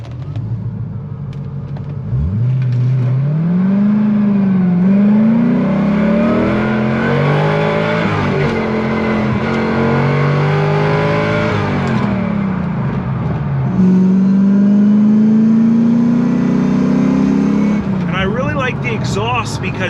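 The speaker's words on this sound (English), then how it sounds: "You get that really nice deep V8 tone without it just blasting your ears off." A deep V8 engine of a Corvette ZR1 revs up and settles repeatedly, its throaty exhaust rumbling loud and close, with rising and falling pitch.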